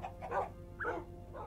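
A dog in Minecraft barks three times in quick succession, short yappy calls close and clear over a faint low background hum.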